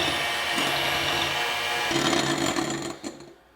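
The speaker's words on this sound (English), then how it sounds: "I'm going to start to whisk these up till it's nice and foamy." Room-temperature egg whites are whisked until foamy for a chocolate souffle, making a loud, continuous motorized whirring that holds steady, then tapers off at the end.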